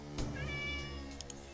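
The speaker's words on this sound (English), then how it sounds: "Oh, meow, back to you, cat." A cat meows once, a close, drawn-out cry with a rising then falling pitch, over a low hum, followed by a couple of faint clicks.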